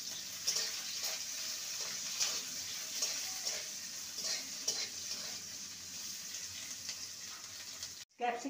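Capsicum and large-cut onion pieces frying in hot oil, a steady soft sizzle with occasional stirring scrapes, faint and continuous, ending in a brief abrupt knock.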